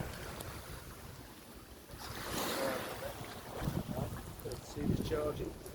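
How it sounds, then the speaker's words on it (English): Waves wash onto Koh Klong Beach in a steady, fairly loud surge, with wind buffeting the microphone and brief human voices nearby. "As you walk along this beach, this is Koh Klong Beach,"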